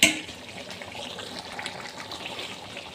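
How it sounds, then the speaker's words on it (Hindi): Lemon juice being poured into biryani gravy, a steady close trickling and gushing of liquid mixed with a faint sizzle, lasting a few seconds. "ये लीमू का रस था, लीमू का पानी था, हमने इसमें डाल दिया"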